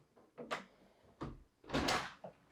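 A door opening in a large upscale house, heard as a few separate thumps and a louder rattling clatter, close and moderately loud with no talk.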